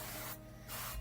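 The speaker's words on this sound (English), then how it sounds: "I'm just using avocado spray." Avocado oil cooking spray hisses onto a casserole dish in two short close bursts with a brief pause between them.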